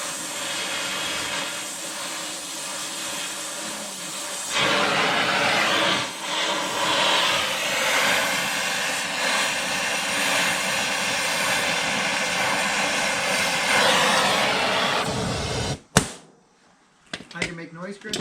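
Steady roaring hiss of a torch heating a rusted nut on the frame of a 1952 Studebaker 2R5 half-ton truck, loud and continuous for about ten seconds before cutting off, followed by a sharp metallic clank and faint rattles.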